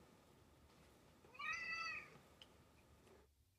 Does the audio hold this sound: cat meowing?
yes